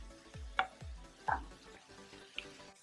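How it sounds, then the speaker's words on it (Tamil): Mint, green chilies and other ingredients sauté in oil for a Tamil pudina thuvayal (mint chutney), with a soft steady sizzle broken by a few sharp clinks of a stirring spoon against the pan. "ஸோ இது எல்லாமே நல்லா எண்ணெயிலே வதங்கட்டும்."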